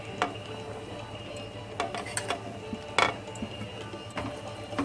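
A spoon stirs lotus stem into a raw mango pickle mixture in a metal pan, giving irregular scraping clinks and knocks, close by and without talk.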